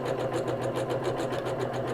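A sewing machine stitches around the edge of a cloth napkin, its motor whirring in a steady, continuous rhythmic chatter of fast needle strokes close by, with no talk.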